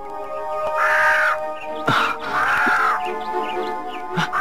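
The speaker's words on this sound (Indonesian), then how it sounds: "Burung gagak raksasa itu?" Giant crow in a forest in an animated fairy tale, several loud harsh drawn-out caws repeating at a slow irregular pace, close and prominent with faint background tones.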